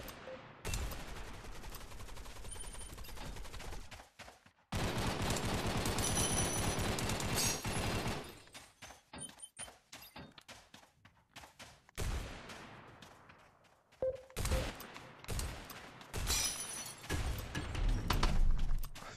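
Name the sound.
gunfire in the VR video game Gun Raiders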